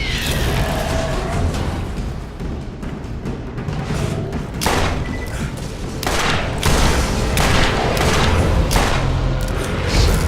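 Gunshots in the video game Borderlands, set in the Arid Badlands: a dense, loud stream of repeated shots and thumping impacts runs throughout, rising in intensity toward the end.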